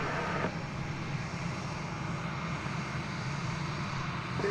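Airliner taxiing at DFW Airport toward its takeoff position on runway 36 right, a steady low engine rumble and whine held at moderate distance throughout.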